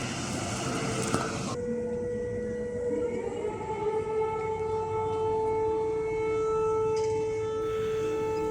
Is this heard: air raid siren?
yes